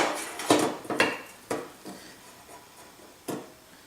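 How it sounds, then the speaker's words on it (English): A spoon clinks and scrapes against a pot as citrus zest is stirred into very hot sugar syrup cooked near the softball stage. Several sharp taps come in an uneven rhythm, close and fairly faint. "you stir in all of the zest that we kept before"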